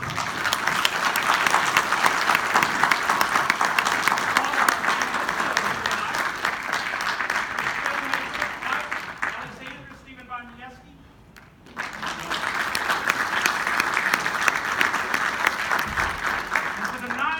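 Big round of applause from the audience at a Skylab panel at the U.S. Space & Rocket Center, dense sustained clapping from a crowd that fades briefly, then swells back up and carries on loudly.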